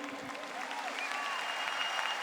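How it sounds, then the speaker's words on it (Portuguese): Audience at a church camp meeting claps steadily, a dense continuous patter of many hands heard from within the crowd at moderate level, with a few faint voices and a whistle-like tone drifting through. "Este aplauso é para cada um de vocês que estão aqui"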